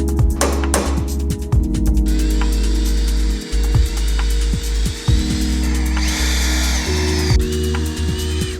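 Power drill boring 9mm holes into the chassis of a BMW G80 M3, a loud close steady whine with short bursts, pauses and clicks, and a harsher grinding stretch toward the end.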